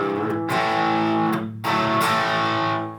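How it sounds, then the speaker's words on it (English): Electric guitar through an overdrive pedal into a solid-state modeling amp, loud sustained distorted chords, struck three times with ringing sustain between, close and alone. "I kick on an overdrive."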